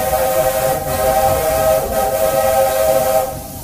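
A Walt Disney World Railroad steam locomotive in the Magic Kingdom sounds its steam whistle in one loud, sustained, steady blast with hissing steam, heard close and continuous for several seconds before easing off.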